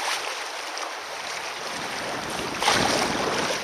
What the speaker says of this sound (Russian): О, самоотлив работает.